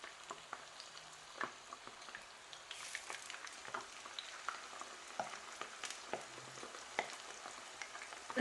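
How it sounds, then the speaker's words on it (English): Chicken kebabs fry in hot oil, a steady soft crackle punctuated by scattered sharp pops and spits, moderately close and fairly quiet, with no voices. "And just let that fry."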